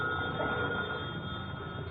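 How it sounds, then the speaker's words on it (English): A telephone rings in an old-time radio comedy broadcast, a continuous trilling bell with a thin, band-limited vintage broadcast quality and steady level. "Should I answer the phone, boss?"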